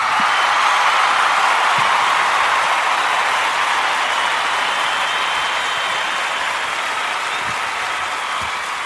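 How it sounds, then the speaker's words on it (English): An audience applauds a host at a live Halloween special, with dense, sustained clapping throughout that fades slightly toward the end. "let's have an extra round of applause for me, the one and the only Luke Howard"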